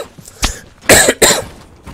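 A person coughing hard while playing Overwatch: a short cough, then two loud harsh bursts in quick succession, close and alone.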